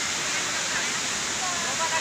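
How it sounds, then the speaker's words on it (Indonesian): River water rushing steadily along Alur Sungai Pinang, a dense even hiss of flowing water filling the short stretch without pause. "Inilah Pak suasana yang ada di Alur Sungai Pinang nih"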